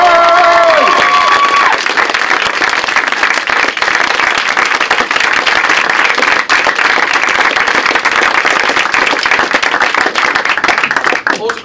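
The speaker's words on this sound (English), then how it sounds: "Can I have one really big applause for our director," A theatre audience at a stage play breaks into loud, sustained applause and cheering for the director, dense clapping filling the whole stretch.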